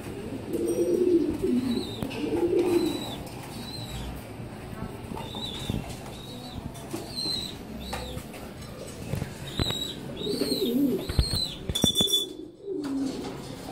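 Racing pigeons coo in soft, repeated low bursts as they return to their loft during training, with other bird chirps scattered throughout and a voice talking intermittently nearby.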